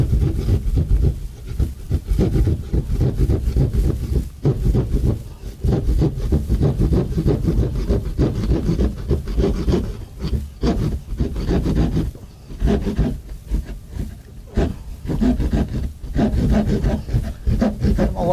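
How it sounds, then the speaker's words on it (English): Hand drywall saw cutting a hole through drywall for a dryer vent, rough rasping strokes repeating in an uneven rhythm, close and loud throughout with no talking. "So we're just going to take our drywall saw,"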